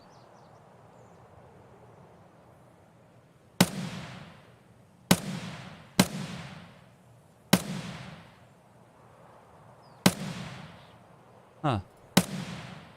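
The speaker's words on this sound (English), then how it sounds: "Took a lot of shots, but I got him." Sharp gunshots in an Escape From Tarkov firefight with a sniper scav at a warehouse, about seven separate reports spaced over several seconds with echoing tails, one voice briefly murmuring.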